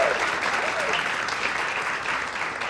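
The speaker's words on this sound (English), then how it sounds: "can we please take a look around and give a massive round of applause to our" An audience at a storytelling festival applauding the hosts: dense, sustained clapping that fills the room evenly and stays strong for the whole stretch, with faint crowd murmur underneath.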